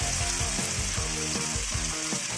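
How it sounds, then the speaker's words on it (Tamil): Marinated chicken fries in butter over a low flame, a close, steady sizzle with soft bubbling crackles and occasional stirring scrapes, without any talking. "இப்போ ஃப்ரை பண்ணி எடுத்துக்க போகிறோம்"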